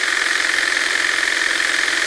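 Stihl HSA 56 battery hedge trimmer running with its blades slowing as the battery dies, a steady, close buzzing motor hum with a faint rattle, heard alone without talk.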